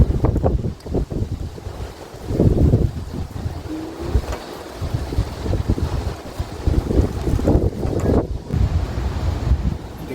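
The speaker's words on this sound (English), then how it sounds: "So it's very windy now." Strong wind buffets the microphone outdoors during a New Zealand windstorm, roaring in loud uneven gusts that surge and ease over ten seconds, with no talking.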